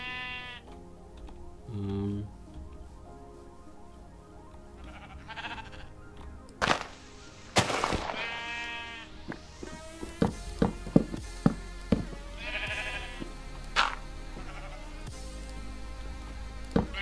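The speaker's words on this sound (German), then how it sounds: "weil es hier so viele Schafe hat" Sheep bleat in the Minecraft video game, a few short wavering game-sound calls mixed with clicks and other game effects, set against steady background noise.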